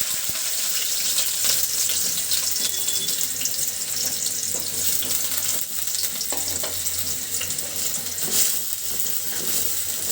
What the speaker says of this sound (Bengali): তেলের ভিতরে এখন দিয়ে দিচ্ছি আমি পেঁয়াজ কুচি